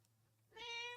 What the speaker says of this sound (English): It's the meow all the time.